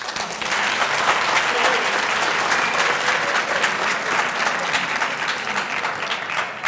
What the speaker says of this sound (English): Mr. Meiwa, can you wave and they give you a round of applause?